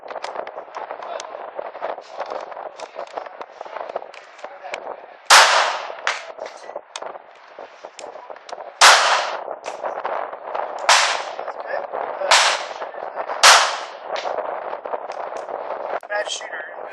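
.380 pistol fired outdoors, five sharp loud shots spaced a couple of seconds apart, ringing out over a continuous background of people talking and murmuring.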